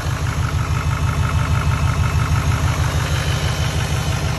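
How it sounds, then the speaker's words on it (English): A GM L5P Duramax diesel pickup engine idles steadily nearby, a loud, even clattering rumble with a regular knock that holds unchanged throughout, with no voices over it. "We'll let it warm up a little bit and then we'll rev it."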